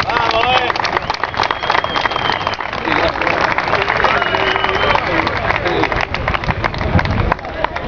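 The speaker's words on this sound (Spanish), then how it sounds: "Un fuerte aplauso para él." A crowd at an Argentine football ground cheers and applauds an elderly supporter, a dense, loud wash of clapping and shouting voices that holds steadily throughout, with individual calls rising above it.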